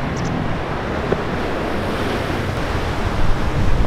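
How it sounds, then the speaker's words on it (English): Ocean waves breaking near a beach shack by a large break wall on the Japanese coast, a steady close wash of surf mixed with wind buffeting the microphone, swelling louder toward the end. "I wonder if the waves get good here."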